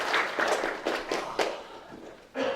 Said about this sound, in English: Mr. Cory, round of applause